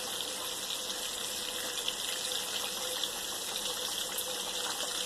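Thick pasta sauce pours steadily into a pot on the stove, a soft continuous liquid rush with a faint hiss and no talking.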